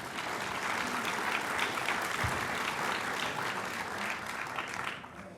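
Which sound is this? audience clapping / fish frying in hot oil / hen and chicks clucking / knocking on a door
audience clapping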